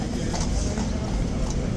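Horse hooves clip-clop in a yard during hot weather in London, a few hoof strikes heard under a loud, steady background hum.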